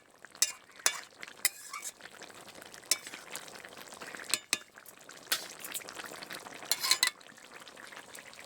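A spoon stirs a winter vegetable curry of kohlrabi and new potatoes with coriander leaves in a pan, giving quiet scrapes and sharp clinks over a faint sizzle.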